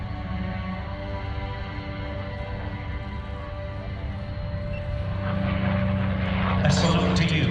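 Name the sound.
P-51 Mustang propeller aircraft flying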